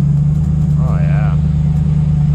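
An LS engine in a drag car idles with a steady, even low drone close by, holding constant throughout with only a brief higher chirp partway through.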